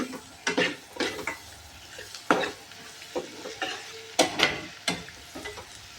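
Onion and chili powder stirred and fried in a pan for a dal and onion dish, with repeated close metal spoon scrapes and clanks against the pot over a light sizzle.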